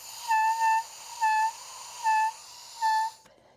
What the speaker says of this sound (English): the first thing you want to do when you're testing if your reed is too hard is to crow the reed